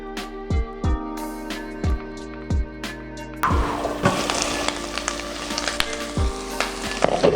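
Thick watermelon steak grilling in a pan: a steady close sizzle and crackle that swells in the second half, with a few clinks and taps of a utensil at the start and no one talking.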